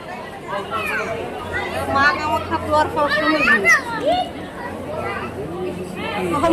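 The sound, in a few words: crowd of people chattering at Kamakhya temple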